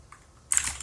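Typing on a modded cheap keyboard fitted with pink switches, a quiet start then a dense burst of close, crisp keystroke clacks in the second half.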